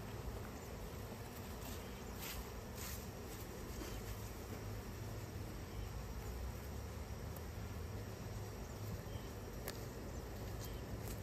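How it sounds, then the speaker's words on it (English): A cloud of flying honeybees swarms around a hive during a messy hive transfer, their steady, dense buzzing filling the outdoors evenly and continuously with no talk. "And all these flying bees should start going in the hive."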